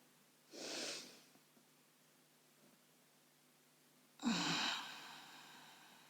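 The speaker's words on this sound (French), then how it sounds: "On inspire et on expire." Two deep, slow yoga breaths, a long airy inhale and then after a pause a stronger, slightly raspy exhale, both close and quiet against a silent room.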